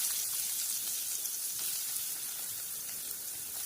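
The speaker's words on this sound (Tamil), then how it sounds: "இப்போ நான் இதுல வந்து கொஞ்சம் எண்ணெய் ஊத்திட்டு இப்போ இது வெங்காயம் போட்டுக்கிறேன்" Onion tipped into hot oil in a pan for egg rice, giving a faint, even sizzle that holds steady throughout with no voices.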